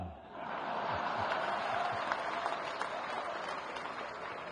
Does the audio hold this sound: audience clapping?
yes